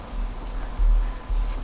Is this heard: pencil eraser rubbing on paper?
yes